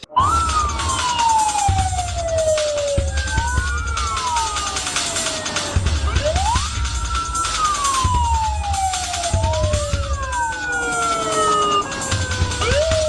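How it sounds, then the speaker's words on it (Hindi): A police car siren wails loudly and close by outside a police station, its pitch sweeping up and down in repeated long cycles with no voices over it. "पुलिस की गाड़ी भी बाहर रेडी है"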